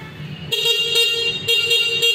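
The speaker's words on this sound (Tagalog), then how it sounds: "malakas din naman po ang busina niya" Horn of a Garow RZ500 e-bike sounds in three loud, close electric beeps, the first long and the next two shorter, with a quiet murmur between them.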